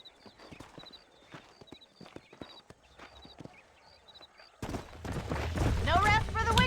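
Horse hooves clip-clop in Red Dead Redemption as a herd of horses is tracked near Armadillo: a steady run of light, close hoof knocks that gives way to a louder, denser wash of noise in the last seconds.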